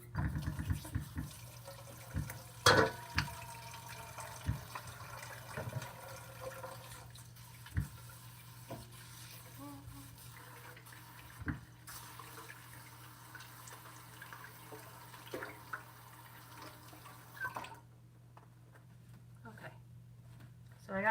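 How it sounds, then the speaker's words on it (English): A tap runs in a home kitchen while hands are washed after baking, giving a steady, close water stream with a few splashes and faint voice sounds before it cuts off near the end. "I'm going to wash my hand and then we're going to taste test."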